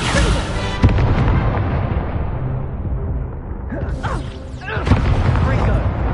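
Fiery Confringo spell blasts in Hogwarts Legacy go off as a couple of sharp, loud bursts amid dense, continuous game sound effects and music, with a voice speaking throughout.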